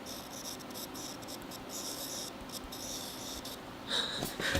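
A Samsung Galaxy Note20 Ultra S Pen scratches across the phone screen, producing a faint, continuous rustling scribble with small bursts of brighter strokes, quiet and very close.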